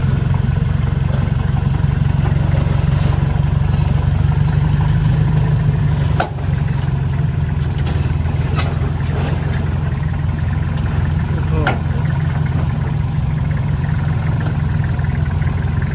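A Kubota L3408 tractor engine runs loud and close while being unloaded from a dump truck, a steady low rumble with a few clunks and rattles along the way.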